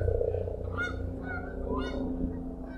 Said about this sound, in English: Oh, I can hear the geese flying in now.